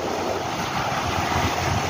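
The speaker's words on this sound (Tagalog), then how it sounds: "maalon pa." Rough sea waves: a continuous, loud, broadband roar of surf mixed with wind buffeting the microphone, with no pauses.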